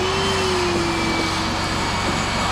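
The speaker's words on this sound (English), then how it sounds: "Now very carefully you're going to want to vacuum this out." A vacuum runs steadily while cleaning out a Ford fuel tank during a fuel pump swap on an older Ford truck, giving a constant loud whooshing drone with a faint whine, with no talking.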